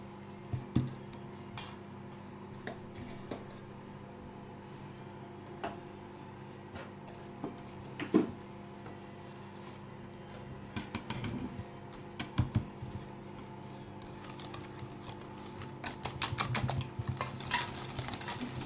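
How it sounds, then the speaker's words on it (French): Chocolate cake batter being stirred in a bowl after a pinch of salt goes in, with soft scraping and tapping strokes that stay quiet, irregular and close, with no voices. "On va mélanger."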